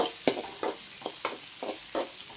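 Onion, two green chilies and curry leaves sautéing in a pan, a soft sizzle broken by about six regular spatula scrapes and stirs, close and without voices.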